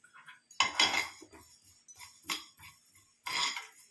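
Ajwain and fennel seeds, part of a panch phoron mix, poured into a kadai, three quick bursts of rattling, clinking scatter against metal with short pauses between, close and moderately loud.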